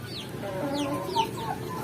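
Free-range village chickens cluck softly in short repeated calls at moderate distance over a faint outdoor background.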